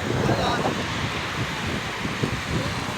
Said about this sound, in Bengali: ঢেউ